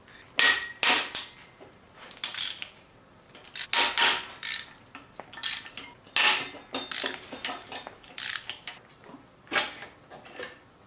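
A ratchet removes bolts from an engine being torn down to fix a rod knock: rapid metallic clicking bursts with clinks of tools, close and fairly loud, in irregular spurts with pauses and no talking.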